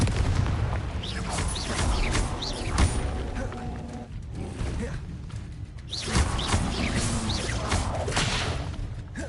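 Confringo spell blasts in the video game Hogwarts Legacy, with repeated booming explosive bursts and whooshes layered over dense, continuous game noise.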